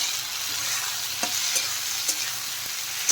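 Masala with tomatoes and Kashmiri chilli fries in a pan for chole, a steady bright sizzle broken by a few light scraping stirs, close and continuous.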